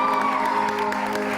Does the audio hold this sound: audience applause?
yes